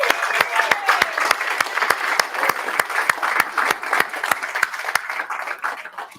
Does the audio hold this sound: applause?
yes